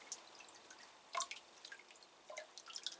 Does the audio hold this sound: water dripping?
yes